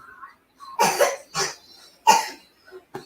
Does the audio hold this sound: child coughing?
yes